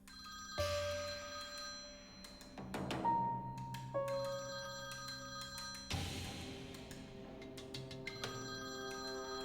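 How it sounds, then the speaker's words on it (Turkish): A telephone rings in repeated electronic bursts of tones over several seconds, fairly faint, with no voices. "Bu telefona bakmam gerek."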